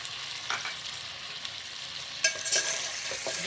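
Cumin seeds sizzle in hot oil with beef for achar gosht while a spoon stirs, with steady crackling frying noise and a few sharper scraping bursts near the end; no one speaks.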